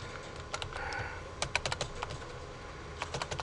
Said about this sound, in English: I'm going to type the letter here real quick.